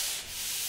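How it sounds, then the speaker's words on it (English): Drywall mud on a basement ceiling being sanded with a sanding screen, a steady close broadband scraping rub that holds even throughout with a brief dip midway. "put it on the ceiling, and you can sand this way"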